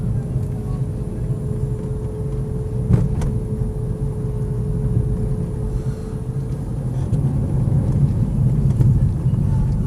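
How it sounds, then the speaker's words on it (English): A BMW 328Ci on 19-inch alloy wheels with very low-profile tyres is driving, heard from inside the cabin as a steady, continuous engine drone and road rumble with no break. "drives the way a BMW should basically"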